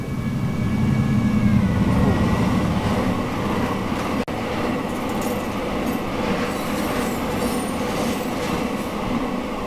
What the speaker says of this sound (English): you're going to get a coal train coming past at 90